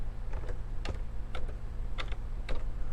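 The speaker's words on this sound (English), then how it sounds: "and then you start typing" Computer keyboard keys are tapped in short, irregular clusters of sharp clicks, close and fairly quiet over a low steady hum, with no talking.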